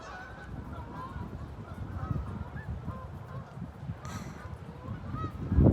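Wild waterfowl calling outdoors after a snowstorm in Hampton, New York, a scatter of repeated honking calls at middle distance over steady low wind rumble.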